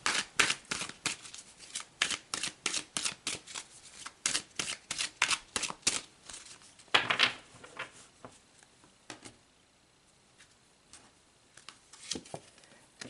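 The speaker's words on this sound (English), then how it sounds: "let's pull some more cards" Tarot cards are shuffled in quick, crisp riffles close up, a fast run of papery snaps that slows and thins out into a few scattered flicks toward the end.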